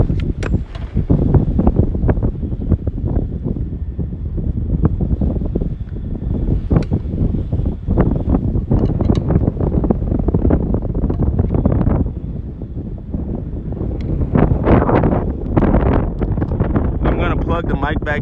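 Strong wind gusts batter a phone microphone outdoors while carp fishing, a heavy, rumbling buffeting that rises and falls in rough waves.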